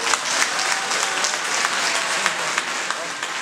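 Wedding guests clap together in sustained, dense applause that fills the room at a steady level, with faint crowd voices mixed underneath.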